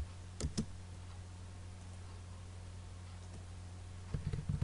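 Keys clatter on a computer keyboard as AutoCAD commands are entered, a couple of quick clicks at the start and a short burst of typing near the end over a steady low hum.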